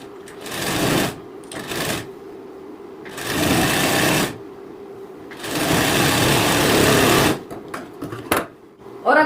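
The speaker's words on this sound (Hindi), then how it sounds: "तो इस सिलाई लगाने से क्या फायदा होता है वो भी मैं आपके लिए सिलाई लगा के दिखाऊंगी।" A sewing machine stitches the side seam of a blouse in three loud sustained runs of steady whirring with short pauses between, the motor close and dominant, a few brief clicks near the end.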